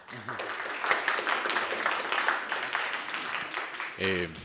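At an academic history research session, an audience claps in a brisk burst for a few seconds, with voices talking at the start and a speaker's voice cutting in as the clapping fades.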